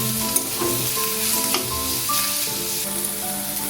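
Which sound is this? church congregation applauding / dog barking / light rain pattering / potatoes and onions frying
potatoes and onions frying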